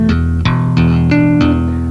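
Bass guitar tapping riff with hammer-ons, five distinct plucked-sounding attacks in an even rhythm over ringing low notes, close and clear with no voice.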